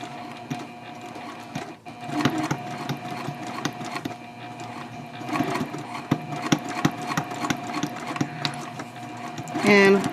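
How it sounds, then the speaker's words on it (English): A sewing machine back-stitching along the folded bottom of a fabric shopping bag, a fast steady mechanical whirring and clatter running throughout, with a brief pause and faint talking over it. "So here's the fold, and I'm sewing that down in place."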